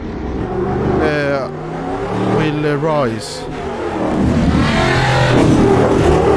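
A Stadium Super Truck engine revs hard under power in the Automobilista 2 racing game, a loud continuous rising and falling roar with someone talking over it.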